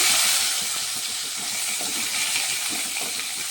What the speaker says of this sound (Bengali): এখন আমি মশলাগুলো ভেজে নেব মশলাগুলো দিয়ে দেবো তার আগে আমি টমেটোগুলো দিয়ে দিচ্ছি